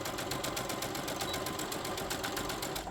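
Sewing machine stitching forward and back stitching along a seam on a boxy fabric bag, a rapid, even mechanical clatter heard up close for several seconds without a break.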